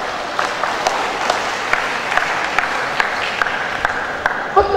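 An audience at a seminar and officials' inauguration at UNIMED in North Sumatra gives scattered applause, light irregular claps against hall murmur, moderately near and swelling slightly at the end.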